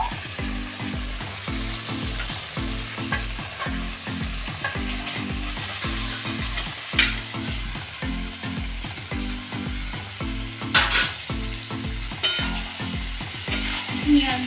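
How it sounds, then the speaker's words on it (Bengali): Potatoes for Kashmiri aloo dum tipped into hot oil and sizzling steadily up close, with a repeating low rhythmic thumping running underneath throughout. "এবার আমি আলুগুলো তুলে দেব।"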